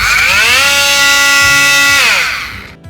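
At maximum speed, an Ozito 18V oscillating multi-tool gives a loud, close, rising whine that climbs quickly, holds steady for over a second, then spins down and fades out.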